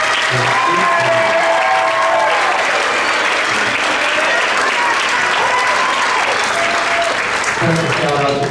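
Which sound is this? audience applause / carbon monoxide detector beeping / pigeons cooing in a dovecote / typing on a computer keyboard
audience applause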